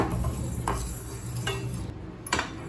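Fenugreek seeds roast over low heat in a pan while a spoon stirs them, giving soft scraping strokes and light clinks over a faint, continuous sizzle.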